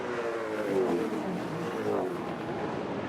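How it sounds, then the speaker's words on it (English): A touring race car engine howls steadily and loudly through a race on the Gold Coast circuit, its pitch rising and falling in sweeping waves as it revs and passes, with no talk over it. "The sound of this engine is so nice."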